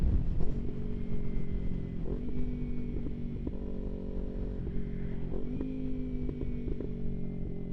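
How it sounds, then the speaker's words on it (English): A Kawasaki Ninja 300 motorcycle out on the road: a steady, buzzing engine drone runs throughout, its pitch rising and falling as the rider shifts and accelerates, heard from on the bike with no talking. "God, this bike sounds so good."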